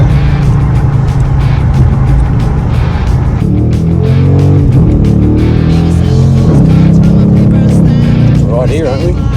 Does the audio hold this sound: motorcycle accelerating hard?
yes